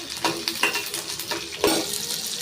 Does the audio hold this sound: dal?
yes